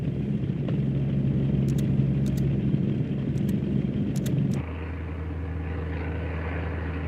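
Inside a hurricane research aircraft flying into a cyclone's eye, propeller engines drone loud and steady, with a high whine and periodic clicks, before the cabin rumble drops to a lower, quieter hum partway through.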